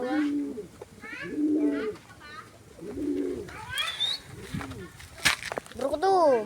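Pigeons belonging to a couple coo in a series of soft, rolling calls at close range, interleaved with someone talking over them.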